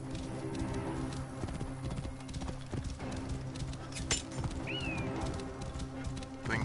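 A horse gallops in Assassin's Creed Origins, its rhythmic clip-clop hoofbeats steady and close throughout, with a brief whinny-like call midway amid game ambience.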